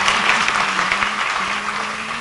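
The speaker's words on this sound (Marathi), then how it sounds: "त्या भाऊसाठी एकदा टाळ्या वाजवा तुम्ही सगळे." An audience at a devotional kirtan discourse claps together in a steady, dense burst that stays loud and close throughout.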